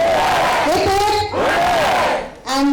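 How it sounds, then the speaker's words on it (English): A crowd of students cheers loudly for actress Tamannaah Bhatia at a promotional event, with sustained shouting and rising yells that swell and briefly dip before surging again. "a big cheer for her"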